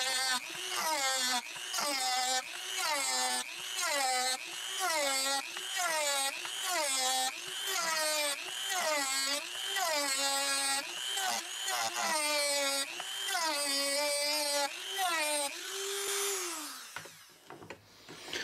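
A power tool cuts into a plastic 5 gallon bucket, giving a repeated whining buzz that rises and falls in even strokes, fairly close and alone, ending with a brief fade.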